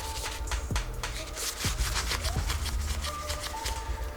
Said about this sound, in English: put it on a paper towel, and rub the surface down